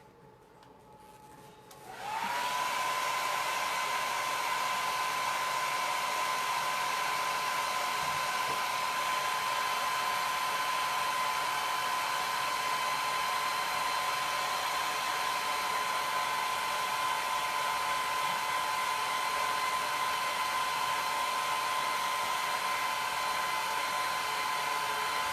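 A hair dryer switches on after a couple of seconds and blows steadily to dry chalk paste on a black-framed board, a loud continuous whine and airy rush, close and alone.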